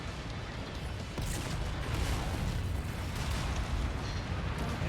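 Mech weapons firing in Mechwarrior 5: Mercenaries, a dense run of loud booming blasts and bursts rolling together without pause, heavy low rumble throughout and no voices.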